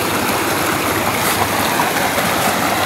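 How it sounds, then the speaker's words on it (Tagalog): Drainage water from a canal running out of nearby houses makes a loud, constant rush throughout, dense and unbroken, with no voices heard. "Diyan siguro lalabas yung mga tubig na galing sa kanal dyan sa mga kabahayan dyan mga idol."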